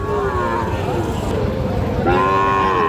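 Cattle, including Sahiwal bull calves, low loudly and close by, with two drawn-out moos over a murmur of market chatter.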